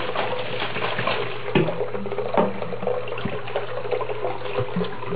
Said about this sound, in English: and shake it again